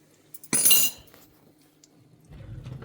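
A spoon of salt and some turmeric added to a dish: one bright metallic clink of the spoon against the vessel, close and brief, then quiet with a soft low rustle at the end.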